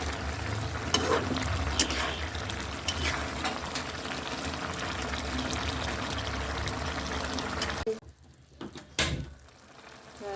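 Mustard oil poured into a simmering curry of rohu fish, bottle gourd greens and potato, a dense frying hiss and bubbling under stirring, which drops away near the end to a few separate clatters and scrapes.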